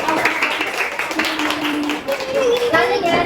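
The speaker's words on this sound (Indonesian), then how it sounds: "Ya, beri tepuk tangannya." Children in a combined fourth-grade classroom clap together, a quick rattling patter that is loud and near, with children's voices talking and calling out over it.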